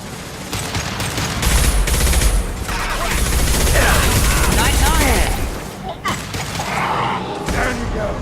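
Sustained automatic weapon fire and heavy booms in a Mass Effect 2 combat sequence, loud and dense, with brief bursts, thuds and a character shouting orders over the battle.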